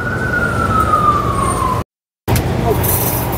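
An ambulance siren wails in city traffic, a loud steady tone sliding slowly downward as it passes, over constant road rumble, with a brief cut before the traffic noise resumes.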